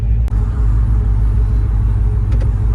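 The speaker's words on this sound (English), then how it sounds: "We're gonna see how this 10-speed shifts at wide open throttle." An 800+ hp LT4-swapped 1993 truck with a 10-speed transmission roars steadily at wide open throttle, a continuous heavy low rumble with a brief dip near the start, loud and close.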